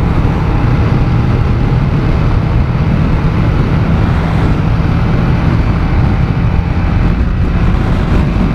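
A 2017 KTM 690 Duke motorcycle cruises on a highway, its engine and wind noise forming a loud, steady, continuous drone with no break and no voices.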